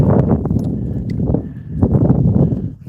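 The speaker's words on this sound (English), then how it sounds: "It's kind of weird for someone to be riding a horse around out here at night." Hooves of a ridden horse clip-clop at a walking pace outdoors at night in a remote area, the close, uneven thuds repeating roughly every half second, heard on their own without talk.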